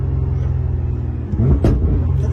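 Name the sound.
Nissan GT-R 1500 hp engine revving hard while accelerating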